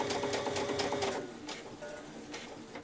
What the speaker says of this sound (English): So it's called top stitching when you're stitching